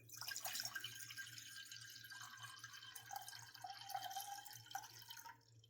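Filtered water pours steadily into a pot in a kitchen, a continuous faint trickle and splash lasting several seconds with no talk.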